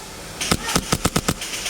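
Airsoft guns firing in a rapid burst of about six sharp pops, each one crisp and fairly close, over steady outdoor background noise.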